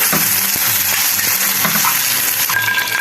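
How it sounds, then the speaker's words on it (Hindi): Eggplant pieces fry in hot oil with a dense, loud, continuous sizzle and crackle, punctuated by faint utensil taps as they are stirred. "बड़े ज़बरदस्त हमारे ये बैगन जो है फ्राई होने पे हैं, बस तकरीबन हो ही गए"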